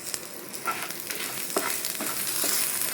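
Coriander, cumin and fenugreek seeds fry in a pan for a wild mango pulimunchi, a steady close crackling sizzle with scattered pops and faint scraping stirs, no voices.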